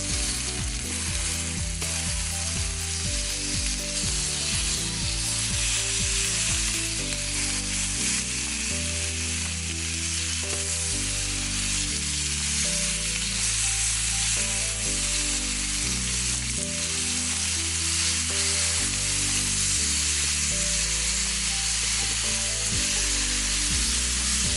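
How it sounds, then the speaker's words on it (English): Steak sizzling in a pan right after being flipped, a steady loud fry and crackle running throughout, with some clicking and scraping mixed in. "so now I'm going to be flipping over my steak"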